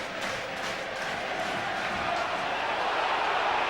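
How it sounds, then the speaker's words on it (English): A rugby crowd at Northampton versus Gloucester in December 2002 voices its displeasure from the far side of the ground, a continuous broad roar and grumble with no break. "the crowd unhappy on that far side, but play goes on"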